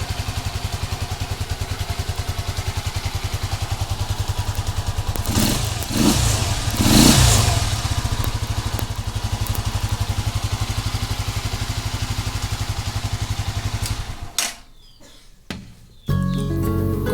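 A Rusi Flash 150X motorcycle with a rough idle runs close by with a steady, loud engine beat. Several sharp revs come in the middle, and the engine briefly dips near the end.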